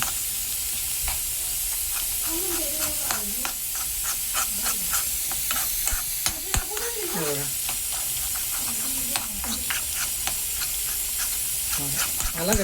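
Gram flour roasts in hot oil, giving a loud, steady hiss and sizzle up close, broken by frequent spoon scrapes and taps as it is stirred, with voices talking over it now and then.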